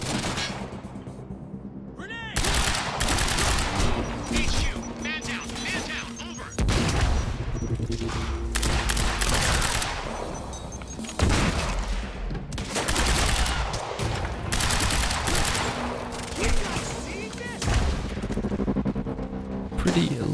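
Sustained gunfire in the game Quantum Break, loud bursts of rapid shots in repeated long volleys separated by short gaps, with booms mixed in, close and dominant throughout.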